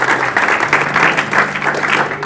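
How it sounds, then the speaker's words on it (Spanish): Congregation clapping at a Spanish-language church service, a brief, full burst of many hands applauding together over a low sustained keyboard tone, loud and even throughout. "Dele ese aplauso a Cristo."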